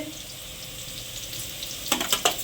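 Spice paste frying in a pressure cooker for a mutton and potato curry, with a low steady sizzle and a few short louder scrapes or stirs near the end.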